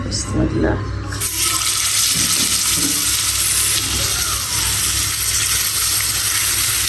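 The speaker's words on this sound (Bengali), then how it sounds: "এটা ভাজি করে নেবো ভাজি করে এটা ভুনা করবো খুব শুকনা শুকনা করে" Pangas fish fries in a pan with a loud, continuous close-up sizzle, a brief clatter at the start, and a low hum underneath.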